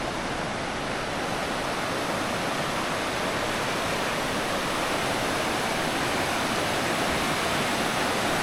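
The River Ledr rushes past in a steady, dense wash of flowing water, loud and unbroken from start to finish with no voices.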